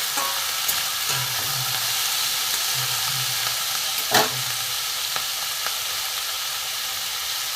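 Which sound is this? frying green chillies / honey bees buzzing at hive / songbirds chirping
frying green chillies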